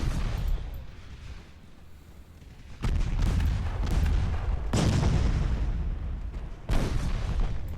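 Naval gunfire in the game Ultimate Admiral Dreadnoughts, heavy ship guns booming in repeated deep rumbling salvos with a constant low battle roar beneath, loud and continuous.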